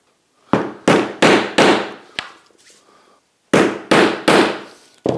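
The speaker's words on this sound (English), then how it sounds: "I'm going to just use it like so, like a punch" Sharp metallic taps in two quick bursts, four strikes then a pause and three or four more, as a brass tube punch is hammered into a wall.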